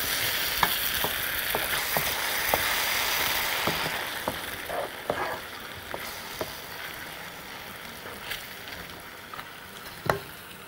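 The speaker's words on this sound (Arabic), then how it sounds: "هقلبه بقى كويس" Food is stirred in a pan while preparing Persian meatballs, with soft scraping strokes and a light sizzle repeating at irregular intervals, close and fairly quiet with no talk.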